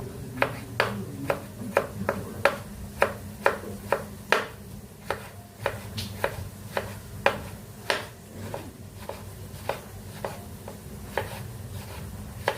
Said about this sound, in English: It's time to chop tomatoes now again. So chopping tomatoes slowly by slowly